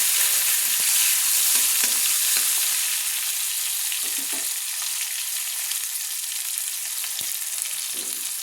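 Chopped tomato fries in hot oil with a steady, bright sizzle and occasional soft stirring clicks, close and fairly loud, no voices.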